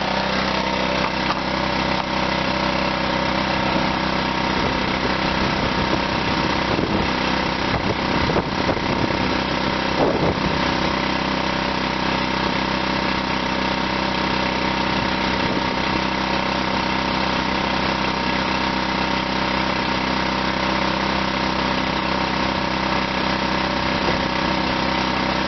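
A DC generator drones steadily under load while charging RV batteries, a continuous engine rumble with a brief rough patch early on and then an even, unbroken hum.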